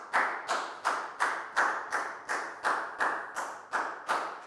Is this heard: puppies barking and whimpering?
no